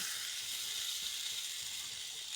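Chicken kabab pieces sizzle steadily in ghee in a pan, a constant bright hiss with faint crackles, close and alone with no talk.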